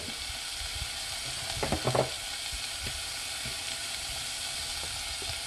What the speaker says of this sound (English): Just keep boiling all the ingredients in the pot.